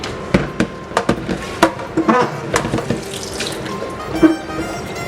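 Tap water runs into a sink with splashing and scattered clatters and knocks as eggplants are rinsed.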